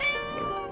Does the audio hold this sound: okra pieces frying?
no